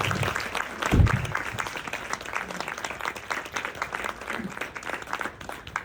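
An audience in a theatre applauds an actress after a stage play, with steady, moderately distant clapping and one louder thump near the start.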